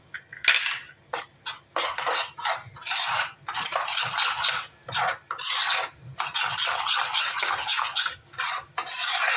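Spices being stirred into dum aloo gravy in a pot, a close run of repeated scraping and clinking strokes from a spoon against metal, steady and loud with brief pauses, no voices.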